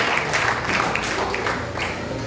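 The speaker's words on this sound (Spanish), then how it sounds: "aplauso a nuestro Dios, un agradecimiento por esta palabra." Congregation applause at a Sunday church service, a steady broadband wash of clapping that holds at an even level throughout without a break.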